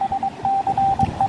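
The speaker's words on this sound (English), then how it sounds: "5 watt CW on 20 meters" A QCX Mini QRP transceiver sends 5-watt CW on the 20-meter band from a portable station at the beach. A steady Morse tone beeps out rapid dits and dahs, clear and close over a soft background hiss.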